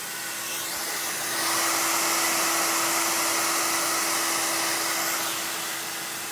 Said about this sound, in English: I'm going to go ahead and hit this with a hair dryer.